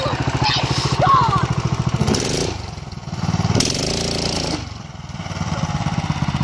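A Yerf-Dog go-kart engine revs hard close by, its buzzy, lawnmower-like drone rising and falling in pitch through several throttle surges without a break.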